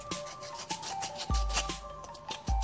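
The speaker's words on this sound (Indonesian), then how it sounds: "kita amplas bagian yang tajam." Quick back-and-forth rubbing of sandpaper against a sharp edge of a fabric-covered decorative plate, with short scratchy strokes and a few soft knocks, close and fairly quiet.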